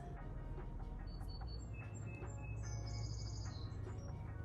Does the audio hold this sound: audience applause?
no